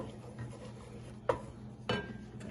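Chicken pot pie filling being stirred in a pan makes two brief, soft scrapes of a utensil against the pan over a quiet kitchen hum.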